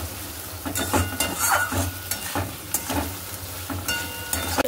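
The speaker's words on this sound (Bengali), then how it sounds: "এখানে মেয়ের জন্য আলু ভাজা বসিয়ে দিলাম" Sliced potatoes fry in a hot pan in a home kitchen, a constant close sizzle broken by repeated scraping stirs and occasional utensil clatter, with no talking.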